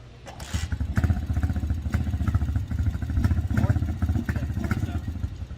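A Viper 150cc motorcycle is kicked over and then idles with a close, steady, low chugging. It revs in several brief surges and rattles throughout, and there is no talk over it.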